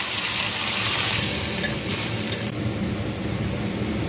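Boiled, ground onion and green chili paste hitting hot oil with whole spices, a loud hissing sizzle that starts strong and settles into a steady frying crackle, close by with a faint clink of a utensil.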